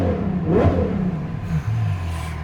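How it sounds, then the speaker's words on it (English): A Ferrari GTC4 Lusso V12 fitted with a Ryft exhaust revs sharply, the engine note climbing quickly and then falling back into a rumbling idle, loud and close with no talk over it. "Sound of this new Ryft exhaust. Did you hear that? Did you hear that? Did you hear that V12 just singing?"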